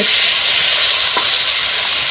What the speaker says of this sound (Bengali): এবার দিচ্ছে পানি